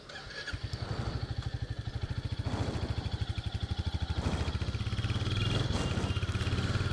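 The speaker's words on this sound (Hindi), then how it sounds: "Let us start the bike first." A 2022 Royal Enfield Hunter 350 motorcycle fires up and settles into a steady, close, low thumping single-cylinder beat that strengthens slightly as it pulls away, with no talking over it.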